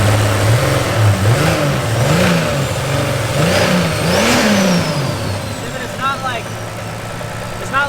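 Drift car engine revving unevenly in repeated rising and falling surges, with an irregular, stumbling note that suggests a misfire, heard close and loud under steady background noise.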